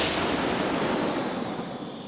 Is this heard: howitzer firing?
yes